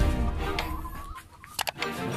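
Chickens cluck and call close by, with a couple of sharp higher squawks near the end over a low background rumble.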